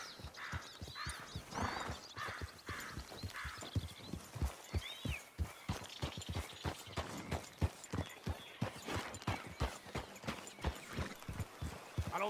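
Horse hooves clip-clopping at a steady walking rhythm in the Red Dead Redemption 2 video game, close and continuous throughout, with a brief whinny-like sound midway.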